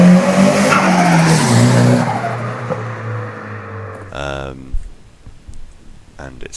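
A drift car screeches its tires hard with a loud engine roar close by, the squeal fading after a couple of seconds into revving and rattling bursts while a voice talks over it.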